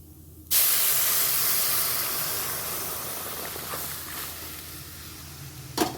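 Dal tipped into hot tempering spices bursts into a loud, steady sizzle and hiss that starts suddenly and slowly fades, ending with a brief clatter.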